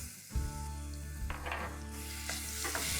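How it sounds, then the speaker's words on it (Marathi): Ginger, garlic and green chilli paste drops into hot oil with cumin, setting off a close, steady sizzle with a few brief stirring scrapes and no speech. "आता आपण हे जो पेस्ट केलेली आलं लसूण हिरवी मिरची ती घालूया"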